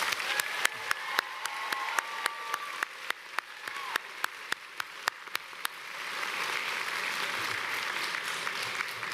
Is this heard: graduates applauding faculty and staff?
yes